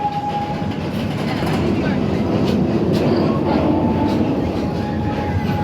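A Busch Gardens roller coaster train rolls steadily around a bend, giving a continuous rumble and rattle with a faint squeal, heard from on board under a narrator's voice.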